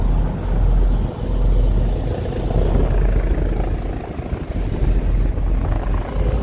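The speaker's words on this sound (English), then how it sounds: "Helicopter is taking off." A helicopter takes off near a New York City ferry route on the river, its loud, steady rotor rumble throbbing continuously throughout.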